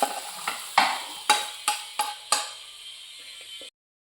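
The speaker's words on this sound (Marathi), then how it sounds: "तर थोडं 1-5 मिनटं आपण ह्याला आता भाजून घेऊया." Okra (bhindi) pieces roasting in oil in a kadai, with a soft sizzle under a series of sharp scraping stirs of a spatula against the pan, about seven strokes, close and clear, with no voices.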